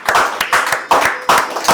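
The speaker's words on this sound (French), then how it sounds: "Acclamez le Seigneur. Clap for the Lord." A church congregation claps hands together in worship, rhythmic bursts of claps repeating about every half second, fairly loud and close with no talking over them.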